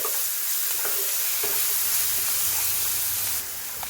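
Ginger garlic paste frying in a pan while being stirred, a steady loud sizzle and hiss with occasional scraping taps of the spoon, no voices.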